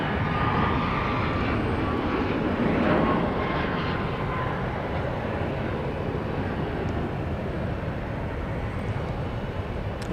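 An airliner touches down and rolls out at Dallas Love Field, arriving from Alice, Texas. A steady, loud engine roar with rushing noise fills the whole stretch without letting up, and no one speaks.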